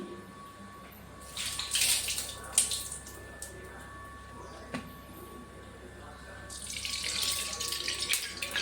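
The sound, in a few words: water running from a tap while washing hands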